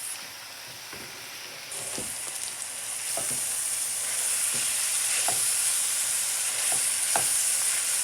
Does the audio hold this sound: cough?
no